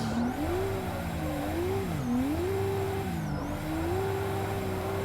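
Adam LZ's Nissan S13 in Assetto Corsa held at half throttle in second gear, a loud steady engine drone that wavers and dips in pitch with slight tire squeal, no voices over it.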